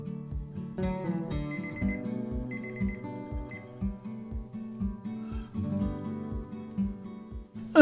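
A kitchen timer rings with a steady, repeating electronic beeping pattern, fairly close and unaccompanied by voices.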